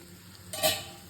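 A spatula scrapes briefly through spicy mutton fry in a pan, giving one short stirring rasp over a faint, steady sizzle.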